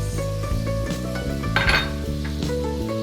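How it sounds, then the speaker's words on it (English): Onions sautéing in a pan for a sweet potato noodle chow mein, a soft sizzle with clinking and scraping of a utensil against the pan, close and steady, no voices. "First step, let's saute the onions."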